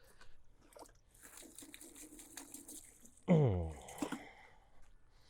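Running water splashes briefly over hands at a tap, a short burst of rushing flow and splatter that follows quieter handling sounds, close and moderately loud.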